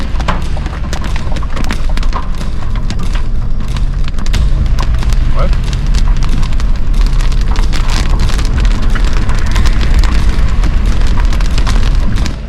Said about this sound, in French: la grêle